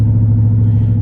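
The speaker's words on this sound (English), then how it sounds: "I'm driving the car now, so it's still driving fine." A Dodge Charger Scat Pack rolls along with a steady, deep engine rumble heard from inside the cabin, close and constant without talk.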